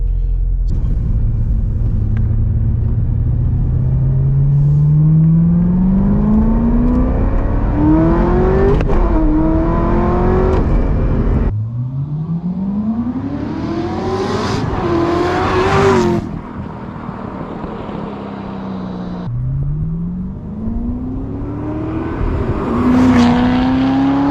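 A drag-prepared car revs hard on a road drive, its engine climbing through several gears in long rising sweeps with sharp shifts between them. It is loud and close throughout.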